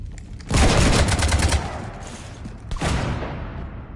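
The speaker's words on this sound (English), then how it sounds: "You want to stop shooting up my ship?" Gunfire rakes a ship in a video game: a loud, dense automatic burst of about a second, a short lull, then a second shorter volley, close and without talk.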